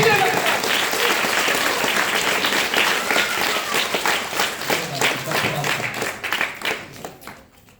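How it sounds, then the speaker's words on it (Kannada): Schoolchildren in a government school classroom burst into loud, rapid clapping that fills the room, gradually thinning into scattered claps before stopping. "ಕ್ಲಾಸ್ ಜೋರ ಬರಬೇಕು, ಉತ್ತರ ಸರಿಯಾಗಿ ಹೇಳಿದ್ರೆ"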